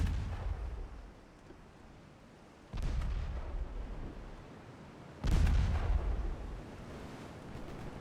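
A cruiser's 7.5-inch guns fire in Ultimate Admiral: Dreadnoughts naval combat, with two heavy, deep booms a few seconds apart, each rolling out into a long rumble over steady sea-like noise.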